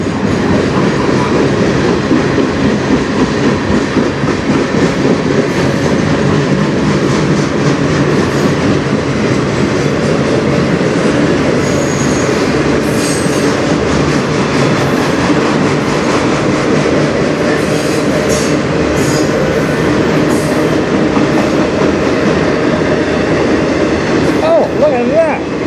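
A CN freight train rolls past on the Strathroy Subdivision, its steady rumble and rhythmic wheel clatter sustained and close throughout, with faint squeals and voices occasionally talking underneath.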